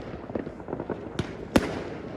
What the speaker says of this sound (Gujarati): સારું હાલો બતાવું તમને હમણાં ફટાકડા